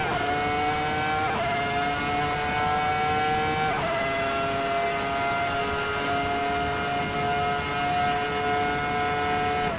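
A Ferrari F2004 Formula One car in a racing video game screams at high revs, its engine note holding steady and dipping sharply at each gear change. The sound is loud and continuous, with no talking.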